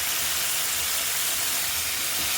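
Bhetki (patari) fish hits a pan of hot spices and sizzles with a steady, even hiss that runs throughout, with no voices.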